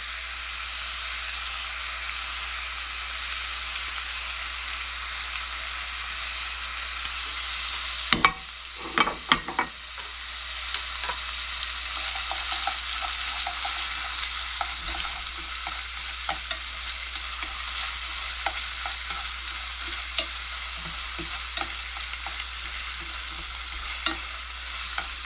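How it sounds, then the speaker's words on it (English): Garlic and onions fry in a pan with a steady, bright sizzle, broken around the middle by a few clattering stirs of a utensil, then a continuing hiss with light scrapes. "I'm going to add in the garlic and the onions."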